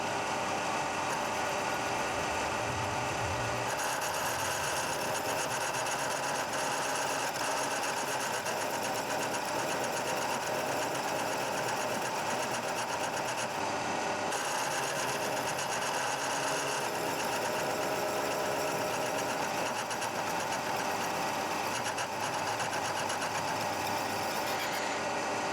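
A machine cuts a small metal part held in a vise for a homemade four-facet drill bit grinder, making a loud continuous mechanical whirring drone with a shift in tone partway through and no talk.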